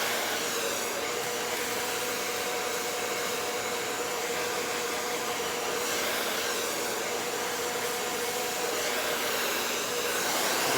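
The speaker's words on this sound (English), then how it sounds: "Blow dry against the root just a little bit, just to heat it up." A hair dryer blows hair dry at the roots, its loud steady whine and airflow close by and unbroken throughout, with no talk.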